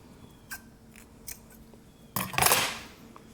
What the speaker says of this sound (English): I'm going to cut my string.